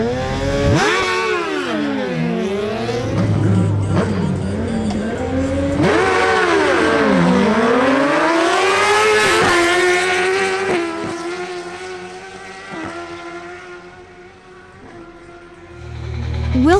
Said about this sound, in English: Closing the qualifying rounds, we have Wilson Penzo on his Suzuki GSX-R1000 against Edward Manzano.